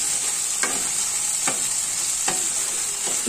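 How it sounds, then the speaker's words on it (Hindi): Boiled potatoes and peas fry in a pan under a constant hiss, broken by four evenly spaced spatula scrapes. "फ्राई होने देना है जब तक ना लाल लाल हो जाए।"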